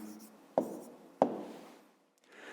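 A pen writes a math answer on paper, two sharp strokes followed by soft scratching trails, quiet and close.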